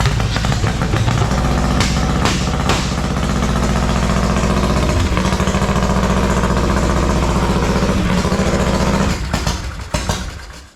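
A Harley-Davidson Panhead motorcycle engine, just kick-started, runs at a loud, steady idle close by with a continuous throbbing rumble that cuts out near the end.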